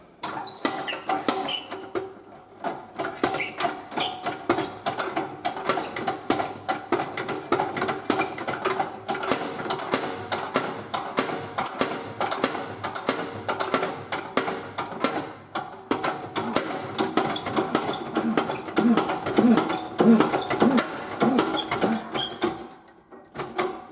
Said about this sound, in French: je peux prendre une douille de 22 longues, ça passe, c'est bon, je peux le faire